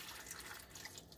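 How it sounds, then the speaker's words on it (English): Water poured into a pot of potatoes for a Ninja Foodi pressure cooker, a steady close, continuous splashing and trickling wash lasting the whole moment. "And then I'm going to pour some water in"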